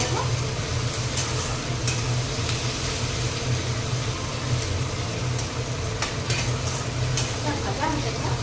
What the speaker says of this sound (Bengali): ব্রাউন কালার করে ভেজে নেব।